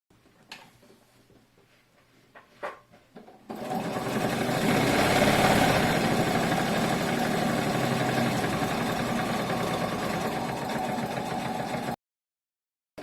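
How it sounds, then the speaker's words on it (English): Sewing machine stitching over a seam a second time on a shoulder bag, a steady close whirring run of about eight seconds after a few handling clicks, stopping abruptly. "just stitch over a second time"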